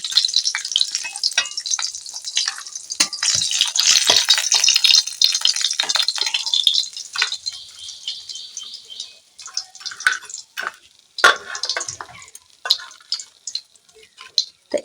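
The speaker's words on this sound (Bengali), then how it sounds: "আমি উল্টে দিকটা উল্টে দিলাম রুই মাছের চাকাগুলো ভাজা হয়ে গেছে" Rohu fish steaks frying in hot oil in a pan, a loud, close, continuous sizzle and crackle that gradually thins into sparser spits and pops, with occasional stirring and no talk.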